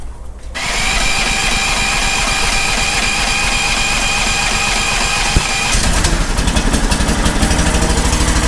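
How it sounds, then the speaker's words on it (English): A 420cc Predator engine on a skid steer, started cold after sitting a month, fires up and runs at a loud, steady idle with a rattling mechanical chatter, roughening slightly toward the end. "So these are basically 420cc Predator engines."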